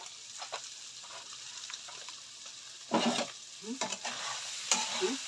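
Karela stir-fried in a pan: a continuous sizzle of frying with several louder scraping stirs of a utensil, close and without talk.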